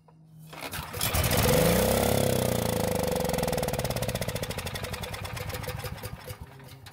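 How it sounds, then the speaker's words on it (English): A small Generac generator engine, run on fuel poured into the carburetor throat after storage, cranks, catches and roars up loudly, then settles into a steady, rapid running putter that fades slightly toward the end. "So the engine started and ran on the fuel I put into the CARB"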